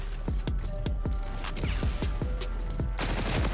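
A fast-firing DLC gun shooting in Call of Duty: Infinite Warfare, a rapid run of about a dozen sharp, evenly spaced shots close and loud, ending in a denser burst of noise, with no talking.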